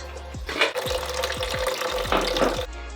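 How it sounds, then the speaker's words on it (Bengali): A tap runs steadily while long-unused cookware is rinsed underneath it, with gurgling water and a few soft clunks of the pots, close and moderately loud. "এটা এখন ধুয়ে নি ভালো করে"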